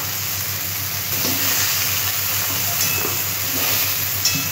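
Fish fries in hot oil in a wok, a loud, continuous sizzle and hiss right up close, with occasional soft stirring scrapes and no voices.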